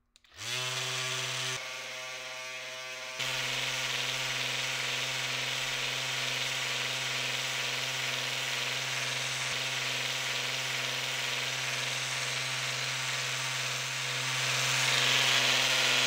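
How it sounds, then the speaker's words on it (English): Power sander stripping paint from a BMW E30 car body, a steady close high-pitched whirring drone that starts abruptly, briefly dips, then runs continuously and grows slightly louder toward the end. "Just sand off the paint,"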